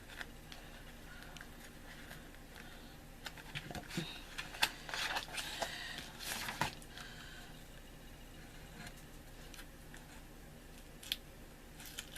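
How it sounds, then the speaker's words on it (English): Scissors cut through paper for a homemade diamond painting, giving scattered soft snips and crisp clicks over a low background hiss, with a denser cluster of cuts in the middle. "Make sure you cut all the way through the paper."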